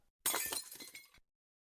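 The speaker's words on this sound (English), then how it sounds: "He smashed the bottle, and rum ran all over the side and down into the salty waters of the Atlantic Ocean." A glass rum bottle smashes against a massive ship's bow at sea, one loud, bright shattering crash with scattering fragments that cuts off abruptly.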